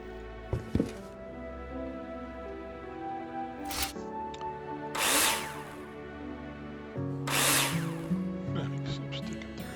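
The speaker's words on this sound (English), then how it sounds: "Take your drill out and screw them in." In the Builder Simulator game, a power drill drives screws into plasterboard in several short whirring bursts, some louder than others, against a soft musical bed.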